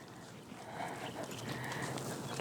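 A horse with a bad stifle moves sideways in a leg yield under a rider, its hooves giving soft, steady footfalls beneath a continuous wash of background noise.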